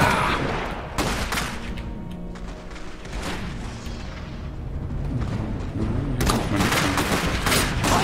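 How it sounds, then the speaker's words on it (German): Dense battlefield gunfire in the game Iron Harvest 1920, loud crackling volleys and booming shots layered over a rumbling low drone, easing briefly mid-way before heavy bursts return near the end. "Die schießen auf mich."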